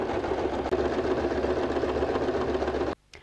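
A sewing machine runs a zigzag stitch over a straight seam on a bag made from recycled jeans, humming steadily and close for about three seconds before stopping abruptly.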